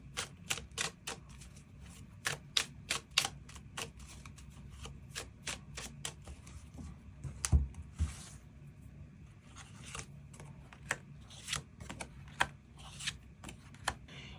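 Tarot cards being drawn and shuffled at close range: a long run of crisp, rapid snaps and riffles in uneven bursts, with soft sliding and handling noise between them and no talking.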